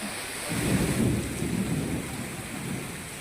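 Heavy unseasonal rain pours down in Mangrol, Junagadh, a dense steady hiss with a low rumbling swell near the start, loud and continuous throughout.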